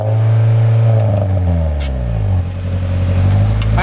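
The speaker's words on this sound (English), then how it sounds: "Alright, rev it." Honda Civic with an aftermarket exhaust revving loudly up close, a deep booming drone that swells, dips in the middle and rises again, with a couple of brief crackles over it.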